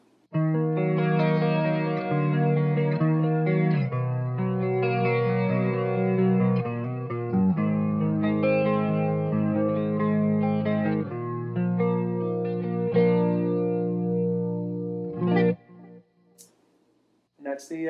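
A clean electric guitar through a Source Audio Gemini Chorus pedal in dual mode plays sustained chords with a shimmering, wavering chorus, loud and close, ending with a few scratchy string noises.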